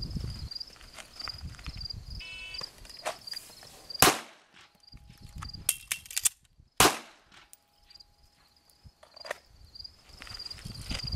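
Handgun shots ring out at a shooting range during a speed-reload drill at 5 yards, with a few sharp, spaced cracks over quiet handling noise.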